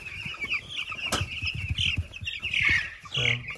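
Twelve-day-old chicks in a brooder cheep continuously with high peeps, soft scratching in bedding and occasional wing flutters, close and busy.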